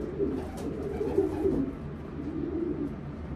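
Soft, low cooing of a race-winning racing pigeon from Utah sitting in a box, a few throaty, rolling coos that rise and fade close by.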